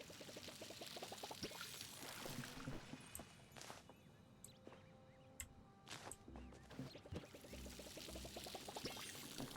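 Water is poured out to water plants, a faint trickling stream with rising gurgles as it fills, running on and off under light handling clatter.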